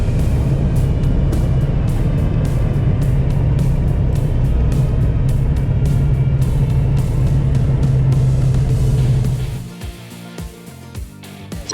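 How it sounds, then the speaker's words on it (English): A small seaplane taxis off the active runway, its engine a loud, steady drone close up for most of the stretch before it drops sharply to a quieter idle near the end. "As I taxied off the active runway"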